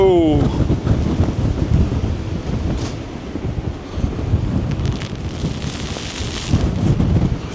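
Strong wind on the wet deck of an overnight ferry near Rotterdam buffets the microphone in loud, gusting rumbles, with a brief tonal sweep at the start and steady roaring noise throughout.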